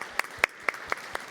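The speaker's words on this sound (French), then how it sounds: "On a applaudi, ouais." A few sparse, evenly spaced claps from an audience at a talk, about five distinct hand claps landing roughly a quarter second apart over quiet room tone.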